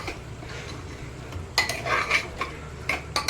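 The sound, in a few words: mixing mutton with chili and coriander powder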